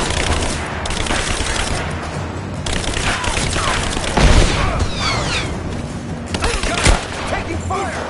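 Rapid bursts of automatic gunfire and heavy booms in the video game Tomb Raider, loud and continuous, with sharp shots and a couple of louder blasts; voices shout over the shooting.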